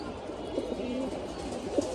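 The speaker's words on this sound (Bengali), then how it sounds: "মাশাআল্লাহ অনেক সুন্দর কবুতর, কালারফুল" Colourful pigeons coo softly and repeatedly at close range, low throaty calls rolling over a steady background hum.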